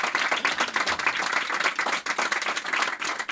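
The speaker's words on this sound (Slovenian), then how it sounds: "Tako damo je kar en aplavz, seveda, ker se je pridružila." Audience applause at an intimate radio concert, a dense, steady wash of many hands clapping close by, holding at an even loudness throughout without pause.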